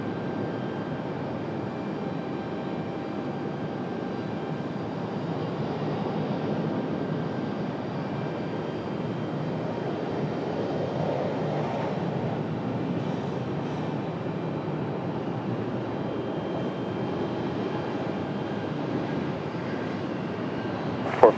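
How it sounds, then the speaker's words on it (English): Steady broadband jet engine roar of a Breeze Airways Airbus A220-300 departing Raleigh-Durham airport for White Plains, a sustained distant rumble that holds level throughout with no talk. "Breeze is off to White Plains. Beautiful A220"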